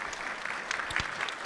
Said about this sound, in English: Ladies and gentlemen, please join me in giving another round of applause to Maxine and to Yolanda.